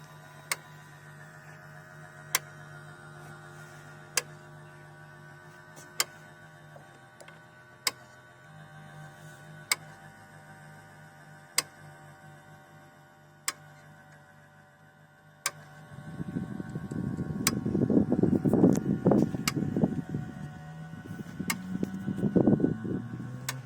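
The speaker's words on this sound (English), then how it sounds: "It is remarkable that this winch is powered so easily by a small 35-watt solar panel." A small solar-powered winch driving a dual-axis solar tracker array, running from a 35-watt solar panel with a slow gear ratio: a steady low motor hum with regular sharp ticks about every two seconds, then louder rumbling bursts near the end.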